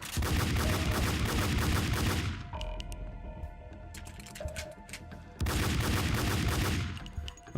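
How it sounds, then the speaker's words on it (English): Rapid bursts of gunfire rattle through a Max Payne 2 shootout, dense volleys for a couple of seconds, then a lull with scattered single shots and clanks before another loud sustained burst erupts. "Now who's shooting at me?"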